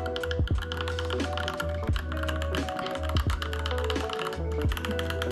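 A Yunzii YZ75 wireless mechanical keyboard with yellow switches is typed on in an irregular run of crisp, clacky keystrokes, close and clear, with a low steady hum in the background and no voices.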